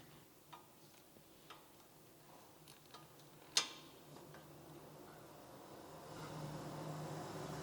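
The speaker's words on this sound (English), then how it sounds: "now we're going to go ahead and torque these to 79 foot-pounds" A torque wrench gives a single sharp click while tightening lug nuts on a 2002 Toyota Camry to 79 foot-pounds, with a few faint ticks before it and low steady noise underneath.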